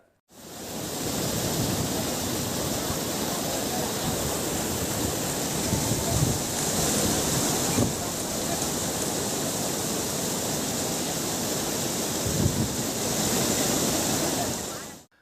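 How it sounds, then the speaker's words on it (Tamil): A river in sudden flood after continuous rain in Tenkasi district roars with a dense, constant rush of fast water, loud and unbroken, with faint thumps now and then. "தென்காசி மாவட்டத்தில் பெய்த தொடர் மழை காரணமாக சிற்றாற்றில் திடீர் வெள்ளப்பெருக்கு ஏற்பட்டது."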